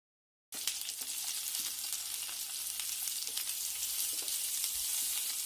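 Eggplant hits hot oil in a pan after a moment of silence and then fries with a constant, close, hissing sizzle and occasional small pops, with no voices.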